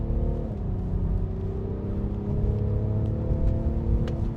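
A BMW M550d accelerating hard, its engine a steady loud low rumble with climbing harmonics and a gearshift early on, heard from inside the car with no talking.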